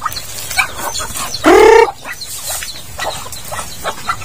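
Chickens and chicks on a farm: one loud, close cluck-like call stands out, surrounded by softer scattered clucks and peeps over steady background noise.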